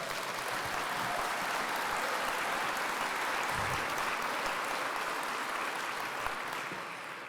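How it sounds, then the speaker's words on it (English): Sustained applause fills the hall at a cinematography awards gala, a broad steady wash of clapping from a sizable indoor audience that tapers off softly at the end. "Round of applause for those people."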